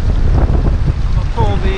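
Wind buffets the microphone on a fishing boat, a loud, rumbling roar that runs without a break. Water sloshes beneath it and a faint high squeak comes near the end.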